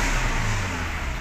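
Toyota Hilux engine revving with the accelerator pressed while the brake is held, a close, sustained engine roar heard alone.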